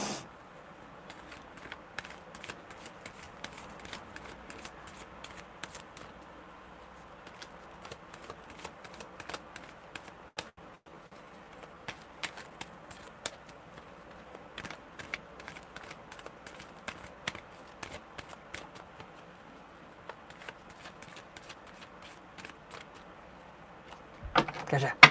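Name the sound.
shuffling tarot cards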